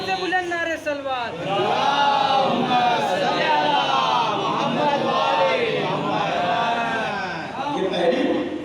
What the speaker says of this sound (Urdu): آواز بلند نعرے سلوات